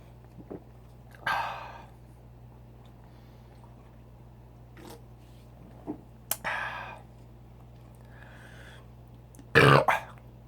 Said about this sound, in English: Man, do I love burping.